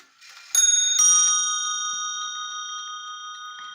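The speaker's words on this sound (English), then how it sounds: "That was the quarter hour chiming." A vintage 1960 Neuchatel mantel clock chimes the quarter hour: two bright struck tones ring out close by, then a long sustained metallic ring that slowly decays, with no talk.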